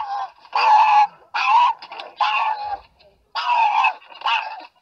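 A dog in a PetSmart store yowls and grumbles unhappily in a series of five drawn-out, honking cries with short gaps, loud and close to the microphone.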